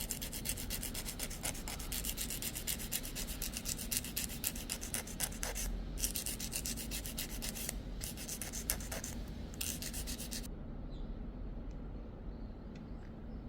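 A nail file works along the edge of an artificial nail tip to smooth the join, giving steady, close scratchy rubbing strokes for about ten seconds before easing into a quieter rasp, with no talking.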